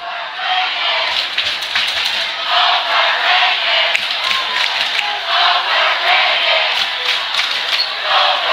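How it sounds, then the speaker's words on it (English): A large crowd at a high school sports game chanting and shouting in rhythmic bursts, a loud sustained roar with cheers rising and falling over several seconds. "the Central crowd serenading us with chants of overrated"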